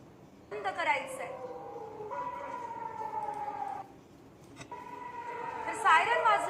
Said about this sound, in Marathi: युद्धाचा अलर्ट देणारा एक सायरन वाजणार आहे म्हणे.